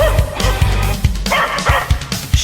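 A dog barks in a quick series of short, punchy woofs, close and loud, several in a row with brief gaps between them.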